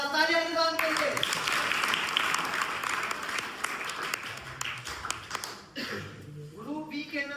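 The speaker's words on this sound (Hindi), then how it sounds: "तालियां रिजवान के लिए।" Classroom quiz competition: a burst of applause from a group of students clapping for a correct answer, fairly close and sustained for several seconds, with a voice speaking briefly before and after.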